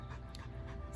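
A dog pants softly and steadily, close by in a quiet outdoor garden setting.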